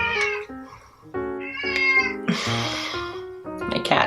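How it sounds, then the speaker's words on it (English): A pet cat meows repeatedly indoors, a string of loud, close, tonal meows and drawn-out cries that rise and fall across several seconds. "My cat."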